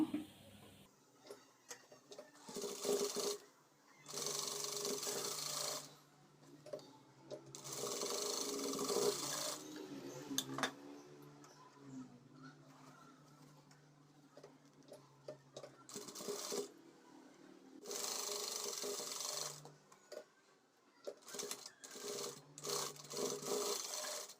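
A sewing machine stitches the shoulder seam of a boat-neck blouse in bursts, its fast mechanical whirring starting and stopping several times between quieter pauses with rustling fabric and faint clicks.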